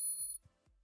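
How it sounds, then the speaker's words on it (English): A silver coin struck with a coin tester gives a bright metallic ping with a sustained high tone, followed by a couple of soft low thumps. "listen, this is the sound of silver."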